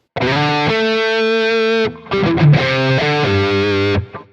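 A distorted electric guitar through a Quad Cortex Freeman preset with mid boost plays sustained chords and a short riff, thick and saturated with a pushed midrange, loud and up close with no talking.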